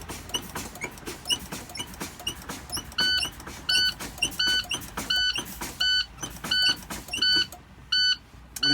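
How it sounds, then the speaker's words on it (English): A truck's low air pressure warning alarm beeps repeatedly in a steady rhythm, with air hissing from the brakes being pumped down on a tractor, loud and close inside the cab. "At that time, the low air pressure alarm should sound."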